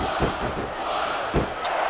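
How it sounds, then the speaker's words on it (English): A crowd in a wrestling video game shouts and roars in a continuous, dense wash of voices with a couple of louder swells. "I think this crowd's giving these superstars a piece of their minds, King"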